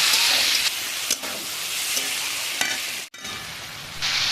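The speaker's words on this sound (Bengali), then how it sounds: "ভেজে রাখা আলু সয়াবিন দিয়ে ভালো করে কষিয়ে ভাজা মশলা দিয়ে আরও 2 থেকে 3 মিনিট ভালো করে কষিয়ে নেব।" Potatoes and soy chunks sautéing with fried spices in a pan, a loud dense sizzle and hiss with occasional stirring scrapes and a brief dip near the end.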